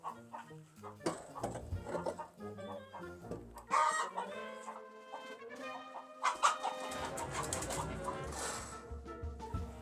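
An old hen clucks in a backyard chicken coop, with repeated close, varied clucks and squawks in uneven bursts, rising to a louder cackling run toward the end.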